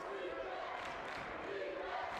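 Crowd at a boys high school basketball state championship game, a steady wash of cheering and chatter filling the arena at moderate volume without pause.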